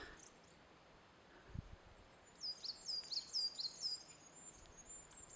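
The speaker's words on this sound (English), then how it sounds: "Even can hear the birds have some spring optimistic sounds." Spring birds sing outdoors in a short run of four or five bright, high chirps midway, fairly distant over a quiet background hiss, with a soft low thump just before.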